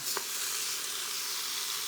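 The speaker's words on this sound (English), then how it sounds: "I can tell when something's searing because I can hear it sizzling." Steady, close sizzling of veal osso buco searing in a hot pan, a constant crackly hiss with one brief clink near the start.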